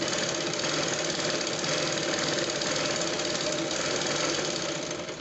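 Sewing machine running steadily while stitching a long-stitch seam around the hem of a six-panel petticoat, a continuous close mechanical whir with rapid rhythmic needle knocking and no pauses.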